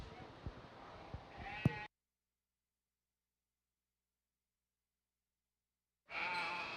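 Sheep bleat a few times at a county fair sheep show in the barn, with short wavering cries over background noise. The sound cuts to silence for several seconds, then noise returns.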